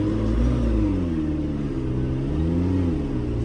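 A McLaren P1 supercar being driven, heard as a steady low engine drone from inside the car with slight rises and dips in pitch as it cruises along.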